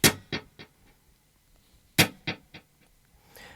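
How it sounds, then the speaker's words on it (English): A single percussive muted guitar hit from a song's rhythm guitar part, repeated by a 265 ms delay into a short train of fading echoes, then a second hit with the same decaying repeats. "I've got my delay set to 265 milliseconds, which if I give you just a percussive hit would sound like this"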